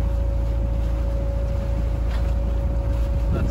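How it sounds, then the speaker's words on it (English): A sailboat's engine runs steadily, a constant close droning hum with a fixed tonal whine and no talk. "Give the engine a good run."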